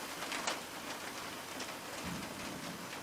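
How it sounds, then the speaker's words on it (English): Steady rain pours down in a broad, even hiss, with a faint low rumble partway through and no voices. "hopefully the rain didn't wash all that out"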